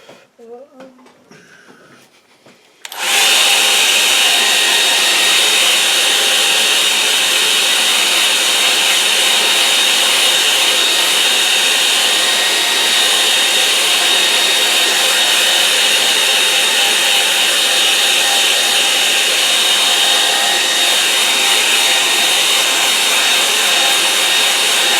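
A hair dryer dries a watercolour painting of a lake scene. After a few quiet seconds of low voice and handling, it switches on and blows loud and steady at close range for the rest of the time.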